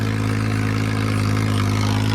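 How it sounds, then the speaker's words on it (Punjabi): A Mahindra 275 tractor engine runs steadily close by, a deep continuous rumble with a constant idling throb and no voices. "ਟਰੈਕਟਰ ਵੇਖੋ ਚੱਲਦਾ ਝੋਟਾ"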